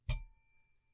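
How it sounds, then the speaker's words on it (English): A single bell rings out once as a game show signal, a sharp metallic strike that fades away over about a second, clear and alone. "I will employ what I have called the inappropriate bell."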